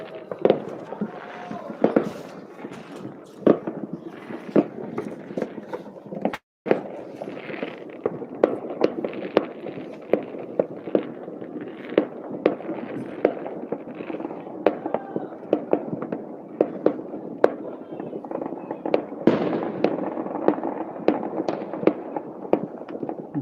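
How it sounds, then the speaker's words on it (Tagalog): New Year's fireworks going off in Poland, a steady barrage of sharp cracks and bangs popping at close to middle distance, with one especially loud blast partway through and a few voices faintly underneath. "Fireworks."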